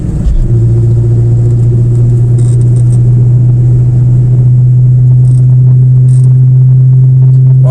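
A Cobra car engine drones loud and steady while the car climbs a mountain road on NC 9, the low engine note holding constant throughout as the driver works through third and fourth gears.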